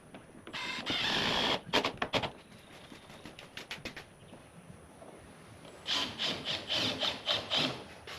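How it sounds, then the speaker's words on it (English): Screws driven into a homemade chick brooder, likely with a power drill, as bursts of whirring and squealing come and go over several seconds. There is no speech. "Attach it with a couple of screws."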